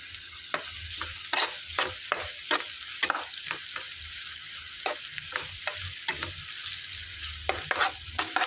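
Onions and curry leaves frying in a pan for ivy gourd stir-fry, stirred repeatedly: a constant hissing sizzle broken by frequent scraping strokes of a spoon against the pan, close and steady.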